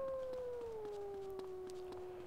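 A long, drawn-out wolf howl in the video game GTA, with a slowly falling pitch, steady and clear over faint background noise, with no talking.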